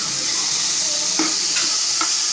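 Chili and coriander leaves sizzling in a hot pan for a paneer dish, a steady bright frying hiss with a few soft stirring clicks, close and continuous with no talking.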